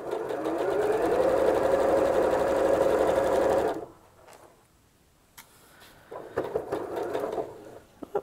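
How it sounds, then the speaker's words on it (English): A sewing machine stitches quilt pieces together in one continuous loud run of about four seconds, then stops, followed by quiet handling of fabric and small clicks and taps. "you're just gonna sew them together"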